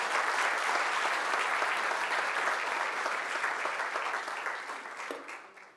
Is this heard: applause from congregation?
yes